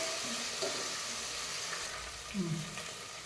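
Ginger garlic paste frying in oil with softened onions makes a steady, even hiss from start to finish, with soft scraping from stirring partway through.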